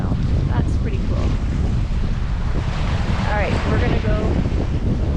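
Strong wind buffets the microphone in a loud, steady roar at Glacier National Park, with a person briefly speaking over it.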